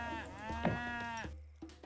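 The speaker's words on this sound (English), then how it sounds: "So these are all cows." Cows in a strategy video game give a single drawn-out, bleating lowing call with a rising then falling pitch, followed by a short quieter thump.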